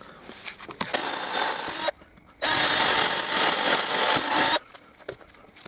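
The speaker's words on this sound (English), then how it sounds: "I get to drill the holes in here, ready for the screws to go through to the back of the sign." Two loud bursts of a power drill whirring into a wooden sign, drilling screw holes, each about a second or two long, separated by quiet pauses.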